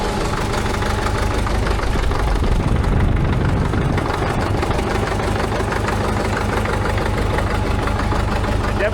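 A 73-year-old Caterpillar engine idles loud and close, a dense, steady rhythmic chugging with a knocking pulse that holds throughout, and faint talk now and then beneath it.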